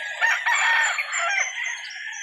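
At a chicken market in Calauan, a rooster lets out a single loud, drawn-out crow close by, with no talk over it.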